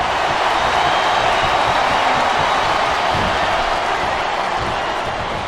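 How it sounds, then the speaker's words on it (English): Crowd noise from the WWE Smackdown vs RAW 2008 video game forms a loud, continuous roar of arena chatter and cheering at a constant level throughout, with no distinct voices standing out. "Sounds like this crowd's got something on their minds, King."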